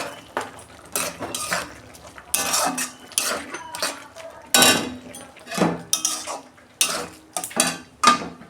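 Metal pan and utensil clattering as freshly cooked egg bhujia is tipped out, with repeated sharp scraping and clinking bursts in an irregular rhythm, close and fairly loud, no talking.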